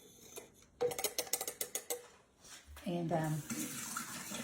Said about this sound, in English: And then all I do is I add my ice and my water to it.